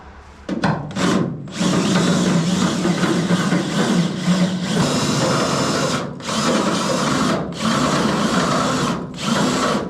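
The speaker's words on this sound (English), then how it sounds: "let's get drilling those out and drilling our other holes" A power drill whines loudly in several long bursts, briefly pausing and restarting as it drills out metal rivet nuts in a Datsun 280Z, close up with no talking.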